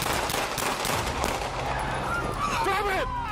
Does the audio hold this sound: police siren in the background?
no